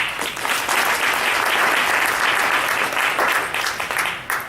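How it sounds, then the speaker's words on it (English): A burst of dense audience applause at a Nigerian entrepreneurship event, honouring sponsoring organizations, steady and fairly close before tapering off at the end. "Please give them a wonderful hand of applause."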